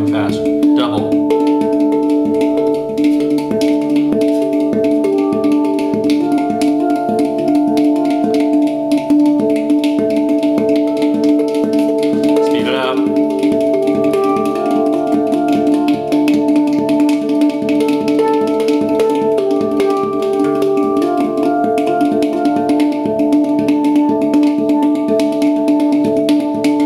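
Handpan played with speed tricks and fast fill techniques, a continuous stream of rapid ringing metallic notes with sustained overtones, close and loud throughout.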